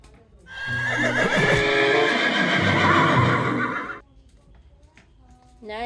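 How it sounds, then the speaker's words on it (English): A toy horse lets out a loud, drawn-out electronic neigh lasting a few seconds, with faint clip-clop sounds, and a person speaks briefly before and after it. "this is a horse"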